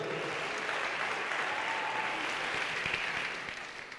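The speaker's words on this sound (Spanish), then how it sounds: "Fuerte el aplauso." A large audience at a youth leaders' conference claps steadily in a dense, sustained round of applause for a speaker that begins to fade toward the end.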